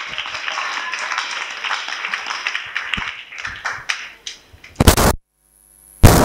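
Audience clapping at a church gathering, scattered hand claps mixed with murmuring voices for several seconds, then loud bursts of handling noise and a cutoff.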